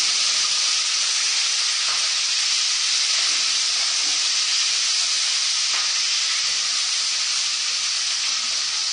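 Cracked cardamom, cloves, cinnamon and raw tomato pieces hitting hot oil, a loud, dense, steady sizzling hiss held throughout, with faint stirring underneath.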